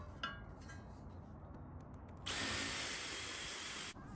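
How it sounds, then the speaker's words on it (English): A power drill bores halfway through a wooden swing set beam, starting with faint handling and setup noise, then a loud, steady high-pitched whine for almost two seconds before stopping abruptly. "Then you drill just halfway through the beam."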